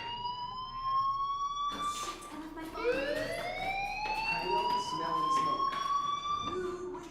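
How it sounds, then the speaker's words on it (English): A fire alarm rings in the Life Is Strange video game, a steady high electronic tone that starts alone, then continues loudly under a sweeping siren-like wail and a voice talking over it. "Hey, do you hear that fire alarm?"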